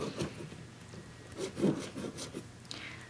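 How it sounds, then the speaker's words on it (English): Metal file worked evenly across a wax carving, making soft, close rasping strokes in an irregular rhythm of short scraping bursts, with no talk. "take my file and file it evenly"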